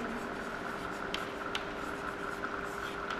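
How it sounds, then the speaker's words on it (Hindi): A marker or chalk scratches across a board during a chemistry lesson, faint continuous writing strokes with a few sharper taps, under a low steady room hum. "तो यहां मैं लिख सकता हूं"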